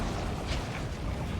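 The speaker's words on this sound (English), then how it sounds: "And a nuke." A nuke detonating in the real-time strategy game Warhammer 40,000: Dawn of War 2, during an Eldar versus Chaos Space Marines match; a dense, rumbling blast wash holds steady at moderate loudness for the whole moment, with no distinct separate booms.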